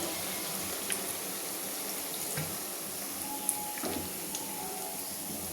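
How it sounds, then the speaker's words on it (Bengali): Water poured into a simmering egg masala curry in a pan, a soft steady pour and bubbling with a few faint clinks of a utensil. "এটাতে আরেকটু আমি জল মিশিয়ে দিচ্ছি, দিয়ে আরেকটু কষিয়ে নেব।"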